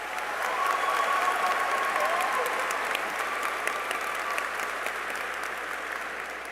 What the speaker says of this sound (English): Can we give Jaden another round of applause?